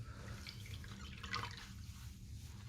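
Soapy hands are dipped back into a basin of water during hand care and rinsed clean, giving a faint, steady trickle and drip of water with no voices.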